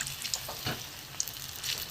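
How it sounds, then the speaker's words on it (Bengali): Soft, continuous hissing sizzle of vegetarian potol (pointed gourd) chops frying in hot oil as they are turned, with a few small crackles and pops over the steady bubbling. "উল্টো পাল্টা ভেজে নেবো।"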